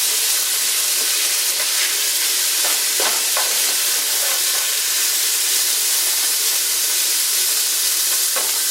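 Garlic and spices frying hard in a hot pan for chicken fried rice, a loud, dense, unbroken sizzle with a few stirring knocks.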